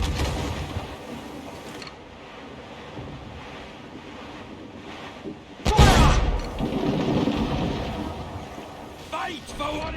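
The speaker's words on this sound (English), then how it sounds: "To quarters all, man the cannons!" Heavy booming ship cannon blasts ring out amid roaring wind and rushing water in Assassin's Creed 4 Black Flag, with shouting voices over the din of a naval battle.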